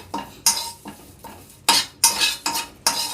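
Curry leaves fry over a low flame while a spoon scrapes and stirs the pan in quick repeated strokes, metal clinks over a soft sizzle.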